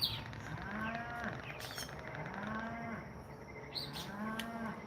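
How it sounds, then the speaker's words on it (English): A cow moos three times in a steady rhythm, each call a long rising and falling low bellow, moderately near over a constant background hum, with a few faint bird chirps. "Do you hear this cow?"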